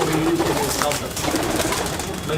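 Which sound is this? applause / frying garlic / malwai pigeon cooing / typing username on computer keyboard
malwai pigeon cooing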